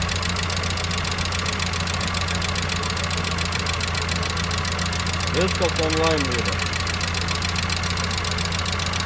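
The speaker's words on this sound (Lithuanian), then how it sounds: "Kol kas birb, kala, bet nieks nevyksta." An engine knocking hard but failing to start, a steady metallic clatter and hum running throughout, with a voice speaking over it.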